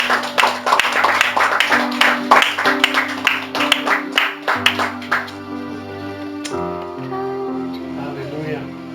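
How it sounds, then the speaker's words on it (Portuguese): Congregation applauding in church during a Portuguese-language service, a burst of rhythmic claps with organ or keyboard chords sustained underneath, fading after a few seconds as music continues. "Vamos aplaudir o Senhor Jesus."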